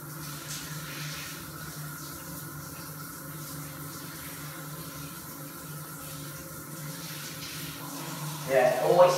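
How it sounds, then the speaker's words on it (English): Water sprays steadily from a shower head onto a fixed drain grid, a continuous close hiss lasting several seconds with a slight rise and some clatter near the end. "the actual water coming out of the shower head"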